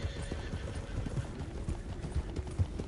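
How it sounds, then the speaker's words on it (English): Wild horses gallop in the Red Dead Redemption 2 video game, a steady rumble of hoofbeats under continuous outdoor ambience, with a whinny heard among them. "Some wild horses."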